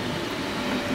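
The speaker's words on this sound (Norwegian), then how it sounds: "Her har vi IC3-toget." An IC3 train with red doors rumbles steadily close by, a continuous low mechanical drone of the diesel trainset running without a break.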